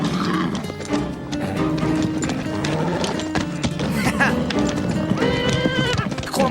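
Horses moving about outdoors, hooves clopping and an occasional whinny, mixed under raised voices and dramatic background music in an animated scene.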